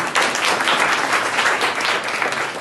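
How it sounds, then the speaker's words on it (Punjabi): Applause from a classroom of government high school students rewarding a correct answer, a steady dense clapping wash that fills the whole moment, close and loud with no talk over it. "ਸ਼ਾਬਾਸ਼ ਤਾੜੀਆਂ ਮਾਰੋ ਜੀ"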